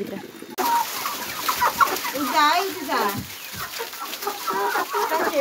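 Local and Giriraj breed chickens cluck and call close by in a farmyard, a steady busy chorus of overlapping clucks running through the whole stretch with no speech.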